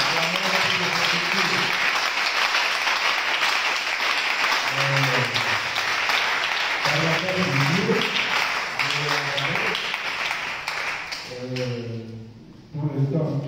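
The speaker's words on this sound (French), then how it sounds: "Acclamez pour ces écrits." An audience at a French-speaking church service claps loudly and steadily for about twelve seconds, with a voice speaking over the applause before it fades.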